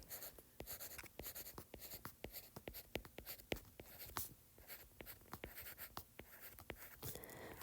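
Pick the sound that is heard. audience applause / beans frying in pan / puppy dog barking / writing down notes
writing down notes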